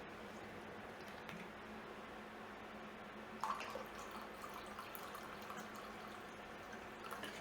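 Vinegar pours into a measuring cup of lime juice, topping it up to two cups for pickled onions with cilantro and lime: a faint, steady low trickle with a few soft drips, one slightly louder splash midway.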